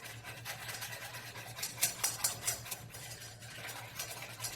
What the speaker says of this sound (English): There's a lot of cacao powder and you want to get all the clumps out. So keep on whisking.